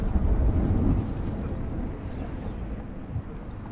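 Low rumbling thunder from an approaching storm in a survival video game rolls loudly at first, then fades into a steady softer wash of wind and rain.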